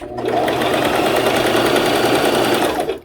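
Sewing machine back stitching a zipper scrunchie, a loud close continuous rapid whirring hum of stitching that runs steadily for about three seconds before stopping.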